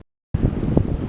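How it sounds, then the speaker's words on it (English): Rough, blustery wind buffets the microphone outdoors, starting suddenly after a brief silence and rumbling loudly with gusty swells. "sorry about the wind, can't do nothing about it"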